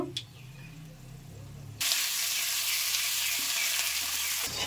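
Chopped onions dropped into hot oil already holding cumin seeds, cardamom, cinnamon and a bay leaf for chicken biryani set off a sudden loud, steady sizzle close by after a short quieter stretch of faint kitchen noise.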